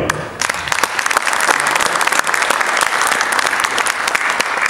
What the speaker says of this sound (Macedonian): Еден аплауз за неа.